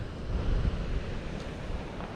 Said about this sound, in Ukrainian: Тут море інше трошки, тут бачите хвилі такі